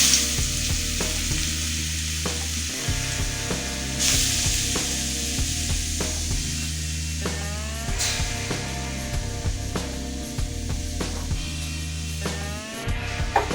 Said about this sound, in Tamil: இப்போ அதே நெய்யில் நம்ம பீட்ரூட்டை போட்டு வறுத்து எடுத்துக்கலாம்.